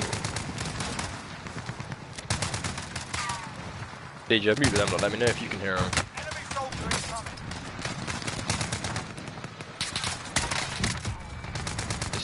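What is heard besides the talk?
gunfire in a video game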